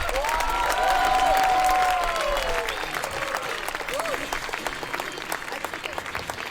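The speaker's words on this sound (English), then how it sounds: "please show us how much you enjoyed this act by clapping as loud as you can" Parents and guests applaud a school performance in a hall, a steady wash of clapping throughout, with a few voices briefly rising above it early on.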